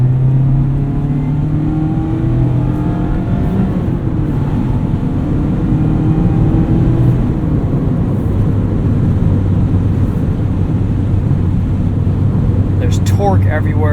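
A 2019 Mazda MX-5 Miata GT-S engine pulls steadily under acceleration on a night drive, a continuous loud drone with rising pitch and heavy road and wind noise, heard from inside the car while a person talks over it.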